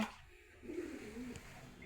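A single pigeon in a cage gives a soft, low coo nearby in a quiet space, with faint rustling around it.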